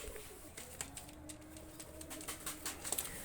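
Quality pigeons released from a coop coo softly and intermittently, with faint bird calls and light fluttering in the background.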